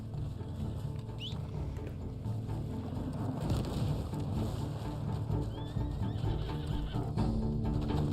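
Horse neighing at the stables in the Red Dead Online video game, a whinny set against a steady bed of ambient game sound and music, with a faint clip-clop of hooves.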